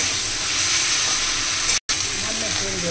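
Masala spice paste sautéing in a pan, a steady hiss and sizzle that fills the whole stretch, broken by one brief dropout near the middle, with faint voice-like tones toward the end.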